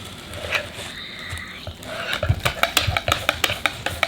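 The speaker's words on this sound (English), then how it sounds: "And now I'm going to mix them." Close, steady stirring of pumpkin pie filling with spices in a bowl, a scraping swish that turns into a quick run of rhythmic utensil knocks against the side.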